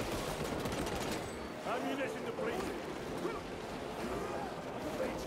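Constant, dense gunfire in a Warhammer 40K: Space Marine II battle, a steady wash of rapid shots and combat noise with no pauses, while people talk over it.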